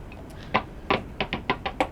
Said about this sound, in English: stabs at the console's innards with a pair of scissors